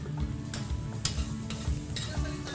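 Goto fried rice being stirred in a pan, with soft scraping strokes at a steady rhythm over a faint sizzle, close by and fairly quiet.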